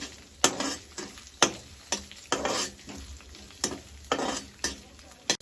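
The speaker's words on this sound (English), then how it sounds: "add your favorite vegetables. Now let them fry for some time." Vegetables frying in a pan for pasta, stirred with a utensil: soft sizzling underneath, broken by sharp scraping clacks that come about every second, close and fairly quiet.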